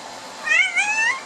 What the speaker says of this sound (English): show you my kitty cat